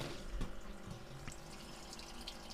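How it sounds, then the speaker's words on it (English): Water trickles and splashes steadily as the sparge flow runs in an electric all-in-one recirculating brewing system during a water test, a continuous close running-water sound with no voices. "We've got a nice sparge flow there."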